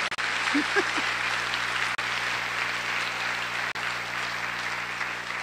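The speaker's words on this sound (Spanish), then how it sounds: "denle un aplauso, por favor" Steady audience applause fills a hall at a church-style talk, dense and even throughout with no voices over it.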